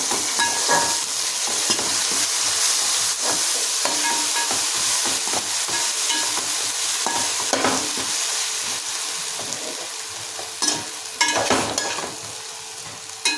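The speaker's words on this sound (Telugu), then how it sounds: "అల్లం వెల్లుల్లి పేస్ట్ అండి. ఇది 3 స్పూన్లు వేస్తున్నాను." Ginger garlic paste fries in a hot pan for chicken mandi, with a loud, continuous close sizzle and crackle and the scrape of stirring running through it.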